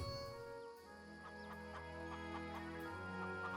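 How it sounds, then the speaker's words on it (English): A chicken in the Pathfinder Kingmaker video game clucks in a quick series of short, close pecking notes over a sustained musical background, with no talking. "A chicken having a nice time."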